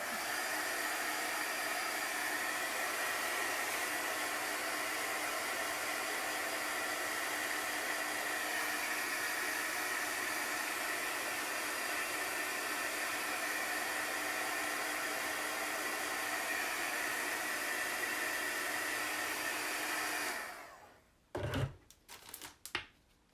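A heat tool or hair dryer blows steadily while drying chalk paste on a faux stained glass project, a loud continuous rushing hum for about twenty seconds that then cuts off into a few light clicks and handling sounds.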